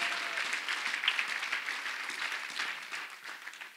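A church congregation claps together in sustained, even applause that fills the room, steady and fairly loud with no voices standing out.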